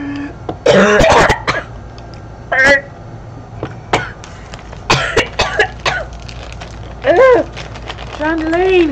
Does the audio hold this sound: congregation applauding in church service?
no